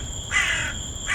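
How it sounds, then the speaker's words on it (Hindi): A black crow caws loudly and close by in a single drawn-out harsh call, followed by the start of a second, with faint background hum. "काला कौवा गरज रहा है।"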